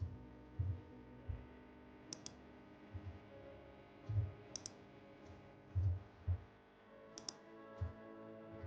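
Quiet computer mouse clicks sound a few at a time, each a short, crisp tick, with brief gaps between them in an otherwise near-silent room.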